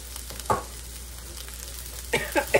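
Rice tipped into a hot pan gives a short sizzle, with a soft frying hiss and a few quick scraping, stirring bursts toward the end.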